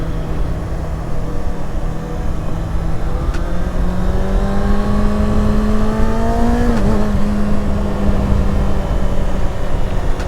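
A 2021 Kawasaki Ninja ZX-6R with a 636 cc inline-four engine drones steadily while riding, its pitch climbing smoothly through a gear, dipping briefly at a shift, then holding at a steady cruise under wind noise.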